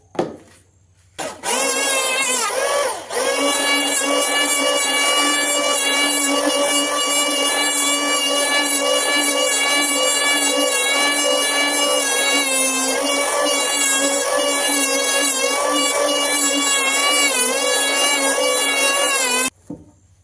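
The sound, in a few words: new electric randa (wood planer) machine running on test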